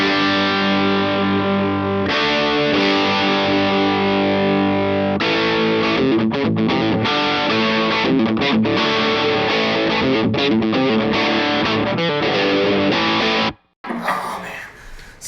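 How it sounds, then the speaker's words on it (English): Electric guitar played through a Boss Angry Driver pedal on its Angry Charlie setting, loud distorted sustained chords and then a choppy, rhythmic riff, cutting out abruptly near the end. "this is the Angry Driver, Angry Charlie setting"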